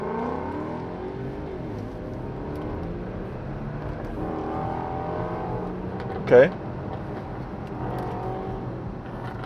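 APR-tuned car accelerating at an official street car takeover race event, a moderately faint engine note sweeping upward with a short sharp burst midway, while someone speaks briefly.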